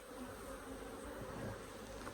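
Honey bees hum steadily around an open hive while nucs and grafts are worked, a continuous close buzzing drone.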